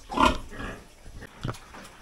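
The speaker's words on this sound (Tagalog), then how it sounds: "papakita ko muna sa inyo ang aking mga baboy" Pigs and newborn piglets on a farm in San Mariano give a loud grunting squeal near the start, then quieter snorts and a short grunt partway through, all close by with no talking.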